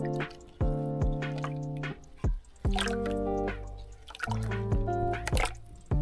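Raspberry-infused water wine slowly drains and drips, with distinct close, resonant drops landing in irregular succession over a quiet background.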